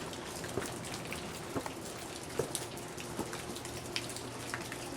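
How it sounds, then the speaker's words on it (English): Heavy rain pouring down outdoors in Vermont, a dense continuous hiss of falling water with scattered louder drips and splashes, no voices. "Raining like crazy."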